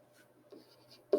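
Pen writing numbers on paper while plotting a quadratic curve: a few short, quiet scratching strokes, close up, the last one sharper and louder.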